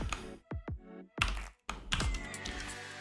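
Keys clatter on a computer keyboard in short bursts separated by brief pauses, close and fairly quiet.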